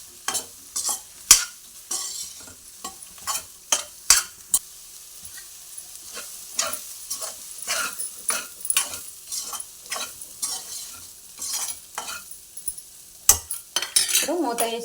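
Meal maker soya chunks fry in oil in a pan while a spoon stirs and scrapes them, giving repeated close clinks and scrapes over a soft sizzle, with a few louder knocks near the end.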